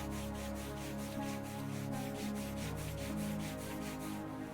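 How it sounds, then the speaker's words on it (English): Hands rubbing briskly up and down along the sides of the knees during a seated chair yoga joint routine, a steady continuous friction swish close by over a low background hum. "bring the hands to either side of the knee and start to rub up and down, really creating friction and warmth"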